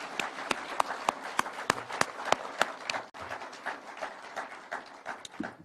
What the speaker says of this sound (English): I think these good people deserve a clap